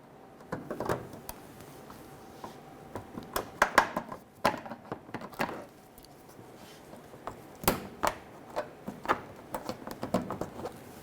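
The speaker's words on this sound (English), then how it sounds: "Using a trim tool, we're going to pop the clips out of the bottom of the bumper." A trim tool pops plastic clips out from the bottom of a Honda Pilot bumper: sharp, irregular snaps and clicks in scattered clusters, close by with faint rustling between them.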